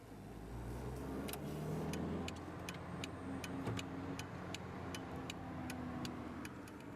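Inside a moving car, a low engine and road rumble drones steadily while a turn signal ticks in a regular rhythm over it, fairly quiet overall.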